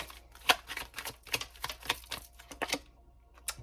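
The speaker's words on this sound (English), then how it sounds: "It's hard to shuffle this little deck." A small tarot deck shuffled by hand, a continuous run of close, crisp card slaps and riffles with an uneven rhythm, fairly quiet, with no speech.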